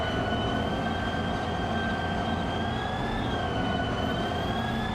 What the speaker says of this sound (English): Let's just drive the train.